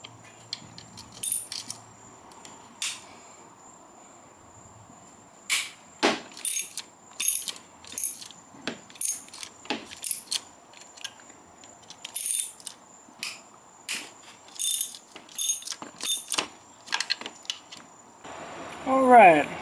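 A socket spins and clicks as bolts come out of a 150cc engine valve cover, bursts of metallic ratcheting and clinking between quiet pauses, close and fairly soft, with a voice speaking.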